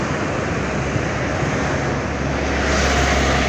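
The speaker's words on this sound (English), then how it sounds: "So we're going to find our way up to the waterfall, as you can hear." Chania Falls waterfall roaring as a dense, steady broadband rush heard along a trekking path nearby, loud and continuous with no voices.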